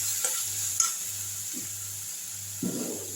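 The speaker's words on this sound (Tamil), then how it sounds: "நல்லா வதக்கி விட்டுருங்க" Onion and garlic for egg masala sautéing in a pan, a soft sizzle under a low steady hum, broken by a few brief stirring scrapes and a louder burst of frying near the end.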